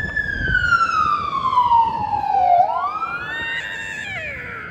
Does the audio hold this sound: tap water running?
no